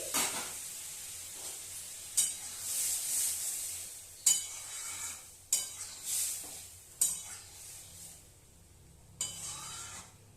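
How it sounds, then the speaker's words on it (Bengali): A hot spice tempering poured into cooked masoor lentil dal crackles and sizzles, with sharp bursts followed by fading hiss and a few clinks of utensils, close and quiet. "আমি পুরো ডালটায় ঢেলে দিচ্ছি"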